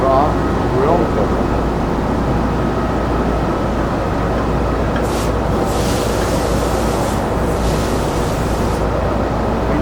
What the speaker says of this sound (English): Let me get the hose and rinse it off.